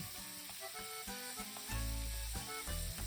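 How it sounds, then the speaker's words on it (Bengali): Chicken pieces fry in butter with grated garlic over a medium-high flame, giving a steady close sizzle. Heavier crackling swells about halfway through, and nobody speaks. "চিকেনগুলো মিডিয়াম টু হাই ফ্লেমে গ্রেট করা রসুন কুচি দিয়ে বাটারে ফ্রাই করে নেব"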